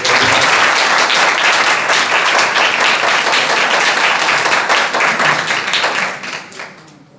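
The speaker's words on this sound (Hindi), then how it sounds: "एक बार फिर जोरदार तालियां।" A church congregation at a Sunday service claps loudly and steadily for several seconds, then the applause tapers off and fades near the end.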